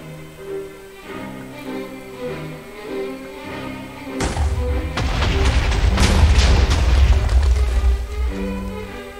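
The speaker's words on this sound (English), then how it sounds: "Huge explosion." A video game explosion erupts as a loud, booming rumble with crackling debris that swells and lingers for several seconds, following quieter musical tones at the start.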